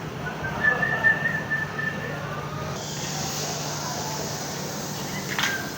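A long, thin whistle holds a steady pitch for about a second, then trails off over a faint ambient background.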